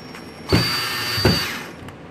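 Power drill starting screws on a DIY baseball hat rack: two short bursts of the motor about three-quarters of a second apart, each with a sharp onset and a whining tail, close and fairly loud.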